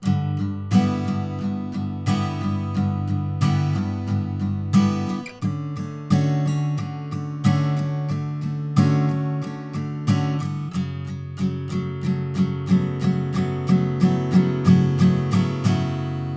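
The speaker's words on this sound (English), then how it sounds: "So I'll play this chorus through with the basic strumming pattern." A guitar strums chord after chord in a steady down-strum rhythm, full and ringing, with a few chord changes along the way.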